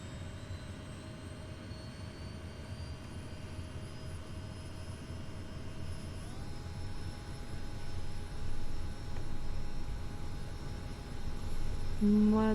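Kodiak 100 single-engine turboprop starting up in the MSFS2020 flight simulator, a steady rising whine with a tonal step partway through over broad engine rumble, growing slightly louder toward the end.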